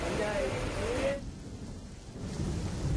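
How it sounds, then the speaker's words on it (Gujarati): Heavy rain pours down in Bharuch, a dense steady hiss of falling water with low rumbling underneath and a brief tonal sound in the first second before the downpour carries on alone. "ભરૂચમાં ધોધમાર વરસાદ શરૂ થયો છે"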